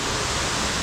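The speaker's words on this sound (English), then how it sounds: "It's a pretty random waterfall" Two-tier waterfall in a Bali jungle creek, a broad steady rushing hiss of falling water, dense and constant with no other sounds.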